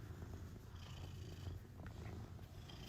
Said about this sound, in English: He's purring. I don't know if you can hear him.